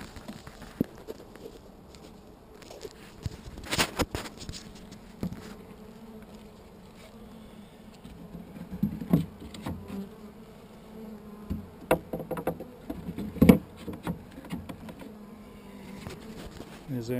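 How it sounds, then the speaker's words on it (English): Bees buzz around a newly installed hive entrance outdoors, a continuous hum punctuated by scattered knocks and handling thumps as frames go in. "Already seen bees going in the entrance"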